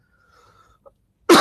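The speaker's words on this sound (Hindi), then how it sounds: "अभी दिक्कत है, खांसी है बहुत।" A man with a bad cough gives a single abrupt, close cough after a moment of near silence.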